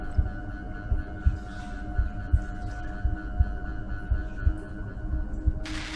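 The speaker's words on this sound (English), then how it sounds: "In my head, my heartbeat sounds so much louder than it does." A heartbeat pulses steadily at close range, each low double thump repeating in a slow, regular rhythm over a constant deep hum, with no voices.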